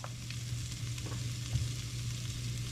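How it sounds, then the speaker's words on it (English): Butter sizzling steadily in a hot frying pan with green beans, a continuous close crackling hiss with a few small pops and no talking. "I'm going to add a little bit more butter to the pan"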